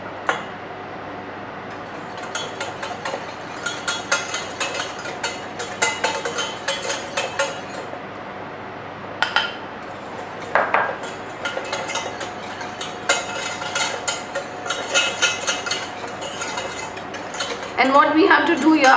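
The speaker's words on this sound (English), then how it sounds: "We add little at a time and whisk it so that there are no lump formation in them" A sugar and gelatin mixture is whisked in a bowl with a steady stream of rapid metallic clinking and scraping, close and continuous, with a few sharper knocks along the way.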